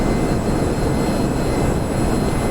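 A B-1A bomber jet in a flight video game climbs out after takeoff on afterburner, giving a loud, steady, broadband engine roar that holds constant throughout without any talk.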